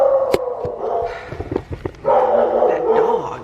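A dog barks several times nearby in a house kitchen under renovation, sharp irregular barks with some yips over a steady room background, loud and close.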